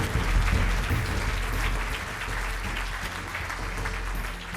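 An audience at a professional council awards event applauds four nominees, producing a sustained, fairly loud wash of clapping in a room with a low rumble underneath, tapering slightly toward the end.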